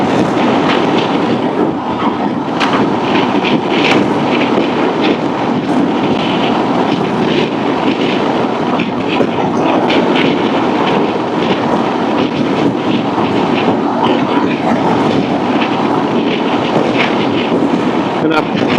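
Constant loud roaring wind buffeting inside a loud helmet while riding a 2024 Honda Transalp 750 motorcycle, broadband rushing noise that stays steady throughout with no clear speech.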